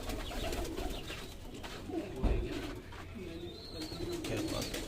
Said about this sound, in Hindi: कुछ कबूतर जो बच गए हैं लास्ट के, वो कबूतर आपको हम दिखा रहे हैं